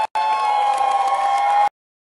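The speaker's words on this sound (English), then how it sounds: "Listen to that crowd cheer!" Race crowd cheering at a speedway, a loud, steady roar of many voices that cuts in abruptly, holds for about a second and a half with a sustained tone underneath, then stops sharply.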